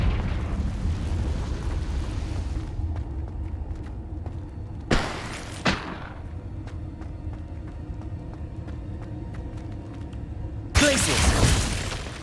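Blasting-spell explosions in Hogwarts Legacy, with sharp broadband bursts around five and eleven seconds over a low, rumbling game soundscape, each blast loud and brief.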